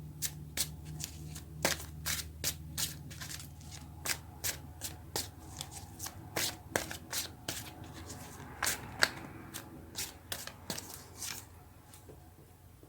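A deck of tarot cards is handled up close to draw another card, with crisp flicks, slaps and riffling clicks coming in an irregular quick patter over a quiet room.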